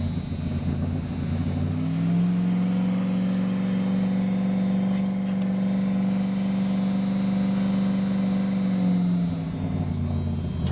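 A Dodge Dakota engine idling on a Wayne Keith wood gasifier gives a steady, close drone that rises slightly in pitch and holds evenly for several seconds before easing back, with no talk.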